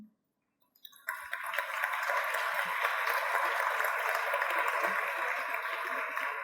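A lecture-hall audience bursts into sustained applause to welcome a criminology speaker, the clapping steady and loud after a brief quiet start, with no talk over it.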